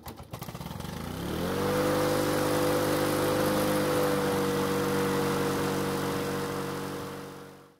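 A small lawn mower engine sputters, catches, and revs up to a steady, loud drone that holds before cutting off at the end.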